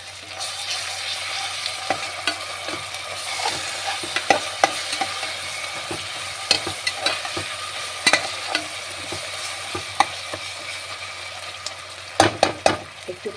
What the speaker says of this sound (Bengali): দিয়ে আবার একটু নেড়ে নেব।